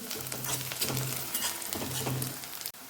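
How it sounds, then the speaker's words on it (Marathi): Finely chopped garlic frying in hot oil with onion, giving a steady close sizzle with soft stirring scrapes throughout, ending abruptly. "आता यामध्ये आपण जो बारीक चिरून घेतलेला लसूण होता तो आपण घालत आहोत।"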